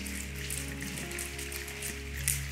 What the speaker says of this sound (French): C'est la pluie qui tombe.